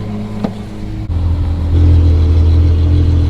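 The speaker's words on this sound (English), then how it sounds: "his 812 GTS, which has a straight piped Novitec exhaust system on it" A Ferrari 812 GTS with a straight-piped Novitec exhaust rumbles at close range, then its engine note swells after a sharp break into a louder, steady, deep roar.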